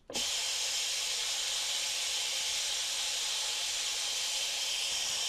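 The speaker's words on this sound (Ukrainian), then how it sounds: "випустимо пару з парового клапана" A sudden, steady hiss of steam escaping a pressure cooker valve, loud and constant after a sharp onset.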